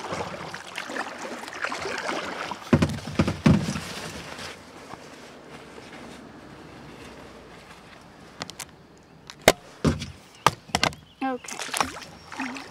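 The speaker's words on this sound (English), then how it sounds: "I'm coming in my kayak" Kayak paddling on calm water: soft, close paddle strokes and drips, with sharper splashes toward the end and a faint voice in the background.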